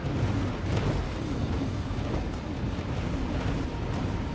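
A space station exploding in the space game X4: Foundations, heard as a continuous heavy low rumbling roar with broadband noise that holds steady throughout, no voices.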